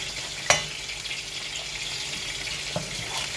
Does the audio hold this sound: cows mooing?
no